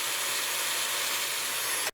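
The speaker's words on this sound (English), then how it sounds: "And here I'm drilling a 1/8 inch hole." A drill bores a 1/8 inch hole through PVC pipe, giving a steady, loud broadband whirring hiss that holds unbroken for about two seconds and then stops abruptly at the end.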